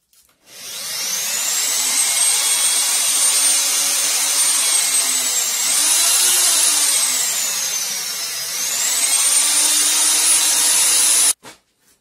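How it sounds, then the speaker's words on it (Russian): Fine sandpaper rubs across a plastic syringe in a steady, close, raspy whir that swells and dips in pitch for about ten seconds, then stops abruptly. "Взял мелкую наждачную шкурку, зашкурил поверхность шприца."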